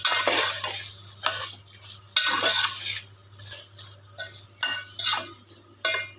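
Spoon scraping and stirring through keema mixed with turmeric and salt in a metal pan, a series of repeated close scrapes and clinks over a faint low hum.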